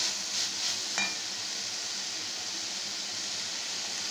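Banana flower sautéing in a pan gives a steady, soft, close sizzle, with a brief light clink near the start and no voices.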